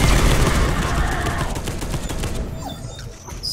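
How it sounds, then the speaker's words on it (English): In the video game Space Hulk: Deathwing, a plasma cannon fires in a loud, dense burst of repeated blasts that fades away within about two seconds, leaving faint electronic tones behind. "gonna try out the plasma cannon"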